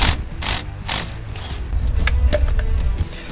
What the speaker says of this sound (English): we're gonna go ahead and take our banjo bolt off on the back side from the caliper